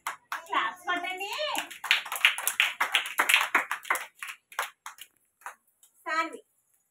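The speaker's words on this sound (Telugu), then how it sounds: "క్లాప్స్ కొట్టండి." Children at an Anganwadi preschool clap their hands in a quick, uneven run of sharp slaps, mixed with a woman's and kids' voices talking and chanting around it.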